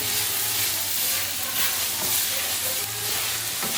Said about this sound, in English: You can see we're just stirring that up in there.